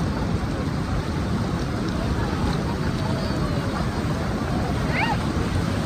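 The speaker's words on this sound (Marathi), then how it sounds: "छानशी लाट अशी आली आहे." Sea waves wash steadily onto Diveagar beach, a continuous broadband roar of surf with wind buffeting the microphone, staying loud and even throughout with no clear breaks.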